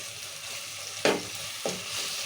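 Ginger-garlic paste sizzles in hot oil in a pan while cooking mutton curry, a steady crackling fry broken by two sharp stirring scrapes or clinks, close and with no talking.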